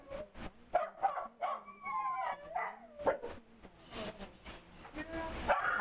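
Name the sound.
dogs barking, rescued Harvey dogs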